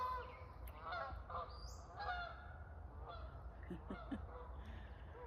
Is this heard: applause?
no